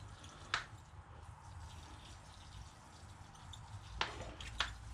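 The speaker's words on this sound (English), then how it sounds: "And we'll add a bit of water." Water poured over freshly repotted bonsai soil drips through the pot in a few faint, sharp drops, one early and two close together near the end, over a low background hum.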